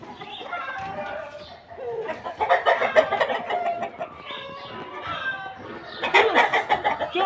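Chickens clucking and a rooster calling in short bursts, fairly close, with a person talking over the birds now and then.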